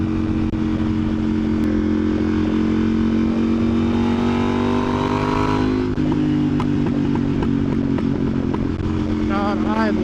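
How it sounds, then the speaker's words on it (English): A motorcycle engine revving and shifting gears while riding, loud and close, with a rising pitch that drops sharply before climbing again, and sporadic exhaust crackles near the end. "I love the pops and bangs that this bike makes."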